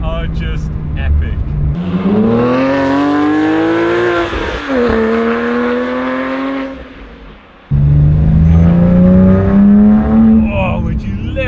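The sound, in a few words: sports car engine revving while driving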